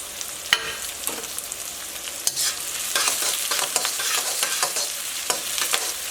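Sliced onion and green chilli fry in plenty of hot oil, sizzling steadily while a spoon stirs and scrapes the pan in irregular clicks and swishes, close up with no talking.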